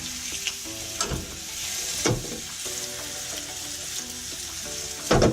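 Fish fingers fry in hot oil in a wok, a steady close sizzle broken by several sharp metallic scrapes and knocks of the utensil against the pan, the last one loudest.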